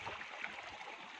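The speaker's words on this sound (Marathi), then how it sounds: "हे पहा, पाणी चालू इथे." Irrigation water runs steadily from a pipe in a cotton field, a continuous faint rushing wash with no breaks and no voices.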